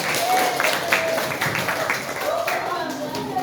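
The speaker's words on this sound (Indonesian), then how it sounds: "Oke, tepuk tangan buat kita semuanya." Participants applauding at a group workshop session: brisk clapping with overlapping voices and cheering, moderately loud and close throughout.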